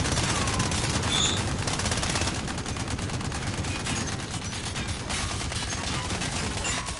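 A mounted machine gun in a Call of Duty game fires in one dense, unbroken stream of rapid shots, loud and close, for several seconds.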